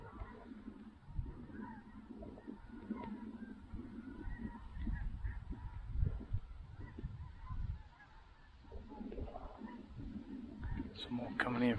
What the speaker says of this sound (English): Snow geese and specks on the lake,